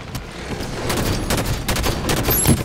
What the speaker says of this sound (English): None of those shots hit.